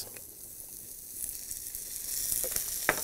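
Vegetables, including carrots, sauté in a little oil in a pan, giving a steady soft sizzle that swells slightly louder toward the end, with faint stirring clicks and no talking.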